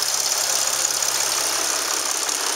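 A 2007 Dodge Sprinter 2500 with a 3.0 V6 diesel and automatic transmission, showing 513,319 miles, runs steadily at a salvage yard, giving a constant, hissy mechanical drone with no talking.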